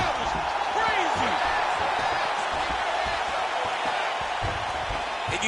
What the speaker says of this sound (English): you hear the crowd react every time they come together because they understand the power that these guys are striking with